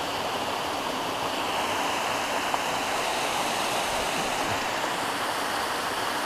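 A steady, full roar of falling water rushes without pause, broad and close, with no voices over it.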